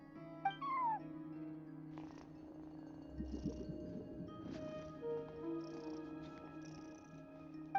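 A cat keeping watch over a hotel front desk in Genshin Impact gives rising meows and a low purr, quiet and close, set against a soft steady game backdrop with faint chimes.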